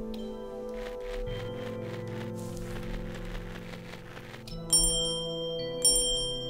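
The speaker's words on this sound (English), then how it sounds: "Nice little bells." Little bells ring in the video game OneShot, bright high chimes sounding twice near the end after a soft, steady musical background.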